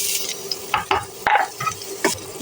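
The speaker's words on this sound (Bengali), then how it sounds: "এখন রান্নার জন্য দিয়ে দেবো কিছু পেঁয়াজ কুচি" Chopped onions fry in oil for a hilsa fish curry, a sizzling hiss broken by repeated scraping stir strokes and clacks of a utensil against the pan, close and irregular.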